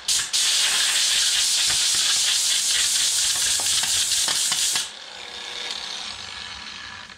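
Compressed air from a compressor turned down low blasts excess polish out of a polishing pad, giving a loud, continuous hiss for about five seconds before it drops away to a quieter rushing tail.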